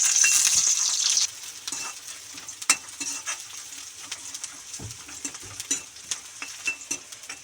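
Onions frying in hot oil in a kadai: a loud burst of sizzle for the first second, then quieter frying under repeated close taps and scrapes of a spoon against the pan.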